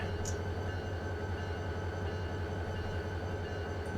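A Union Pacific locomotive in Run8 Train Simulator idles with a steady, low diesel rumble and a constant mechanical hum, unbroken and close, with no talking.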